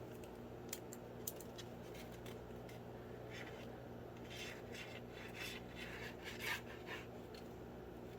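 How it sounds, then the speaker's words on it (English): A pencil lightly colors score lines on paper while a file folder folio journal is being built. Faint, soft scratchy strokes come and go over a quiet background, and no one speaks. "I'm going to try to lightly color my score lines so you can kind of see what I'm doing"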